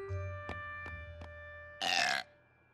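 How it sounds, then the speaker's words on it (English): A cartoon baby pony gives a short, loud burp near the end, preceded by a few faint soft taps over a low background hum. "the babies need to be burped"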